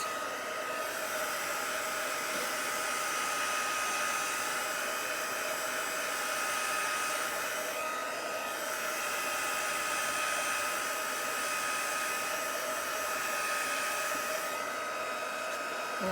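A hair dryer blows steadily on an item for the full stretch, a continuous close whooshing whine with slight swells.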